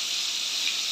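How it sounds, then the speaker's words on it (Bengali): Slices of pointed gourd (potol) frying in hot oil give off a steady, bright sizzling hiss, close and even throughout, with no voices. "এই পটলগুলো ভেজে তুলে নেব"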